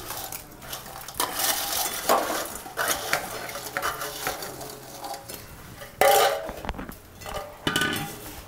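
Fried bread slices for double ka meetha are stirred into sugar syrup in a pan, giving repeated close scraping and clinking of a spoon against the metal with a few louder knocks, and no talking.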